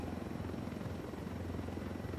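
Helicopter in Tom Clancy's Ghost Recon Wildlands, a steady rotor drone with low thumping that holds evenly through the whole stretch, close and fairly loud, with no talking over it.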